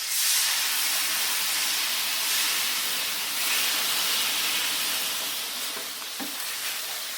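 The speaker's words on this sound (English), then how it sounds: "if I add some water now, it'll allow everything to lift up. And this should start sizzling" Water sizzles and hisses steadily across a hot Blackstone 22-inch E-Series electric griddle, a loud, continuous broadband frying hiss that swells and eases slightly, heard up close with no voices.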